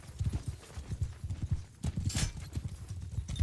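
Rapid, rhythmic hoofbeats of a galloping horse in a video game, close and steady throughout, with a brief whoosh midway.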